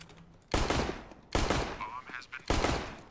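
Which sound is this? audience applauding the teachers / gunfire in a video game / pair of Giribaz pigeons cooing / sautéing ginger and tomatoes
gunfire in a video game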